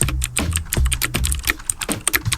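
Fingers type a search into Google on a computer keyboard, a quick run of close, clattering key presses over a couple of seconds with no speech.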